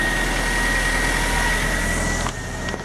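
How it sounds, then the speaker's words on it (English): An AMG car engine idles steadily just after starting, a loud close droning hum with a constant low rumble that drops slightly near the end. "it's actually holding an all right idle"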